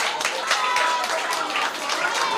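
Audience clapping for a student at a school reading day, a dense patter of many hands heard steadily throughout at moderate loudness.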